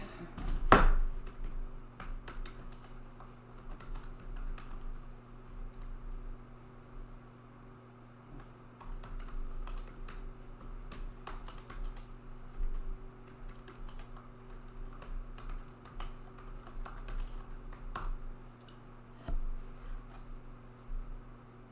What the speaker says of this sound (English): Just got to pull out my keyboard.